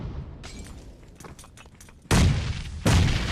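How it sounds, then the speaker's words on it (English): In PUBG Mobile, a grenade blows a door off its hinges: after a quiet stretch with faint scattered pops, two loud, close, heavy blasts hit in quick succession and leave a rumbling tail. "Ooh, that door gets blown off its hinges."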